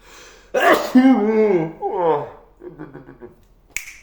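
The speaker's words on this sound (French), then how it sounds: "Voilà, j'ai éternué, merci à tous." A person sneezes loudly and close by, with a sudden burst followed by a drawn-out voiced, wavering cry and smaller breathy sounds trailing off.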